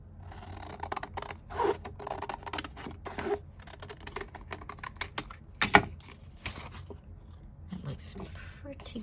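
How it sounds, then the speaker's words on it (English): Scissors snip through paper while a journal cover is made, giving quick, crisp cuts spread across several seconds amid quiet rustling and handling, with a voice talking softly in between. "I'll just cut that across in case I want to use this for tags later."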